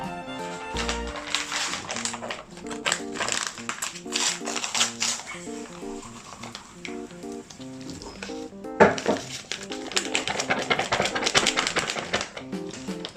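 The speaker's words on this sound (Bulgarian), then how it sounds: "И след това разбъркваме хубаво микса." Chicken and a four-cheese mix being stirred in a bowl by children in a kitchen, a busy run of quick scraping, tapping and clattering strokes, loud and close, with a brief pause midway before the stirring picks up again.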